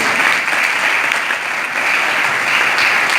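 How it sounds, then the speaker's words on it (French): An audience at a student seminar with a writer and psychologist claps together, loud dense applause running steadily from start to finish. "Applaudissons-nous tous."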